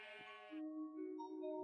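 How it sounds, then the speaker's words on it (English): A sheep in the video game Minecraft gives a short, wavering bleat, faint and alone. "looks like we have some sheep, which is always a good thing"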